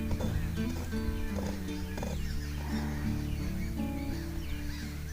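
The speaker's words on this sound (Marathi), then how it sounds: "पक्षी का ओरडायला लागले?" Crows caw repeatedly outdoors in a garden area, the harsh calls fairly near and overlapping, with a steady background hum underneath.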